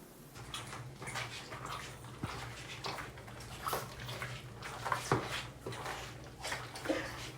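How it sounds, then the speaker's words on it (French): Waterlogged shower flip-flops squelch and squish underfoot in a run of irregular wet slaps and sucking noises, fairly quiet and close, with no talking. "quand les claquettes se gorgent d'eau, ça donne ce bruit"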